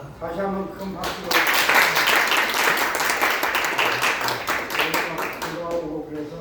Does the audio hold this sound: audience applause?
yes